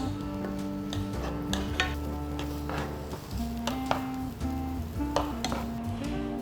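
Onion and garlic stir-fry in a pan for a cheesy mushroom doria, a soft sizzle beneath repeated clinks and scrapes of a utensil against the pan, over a steady background music bed.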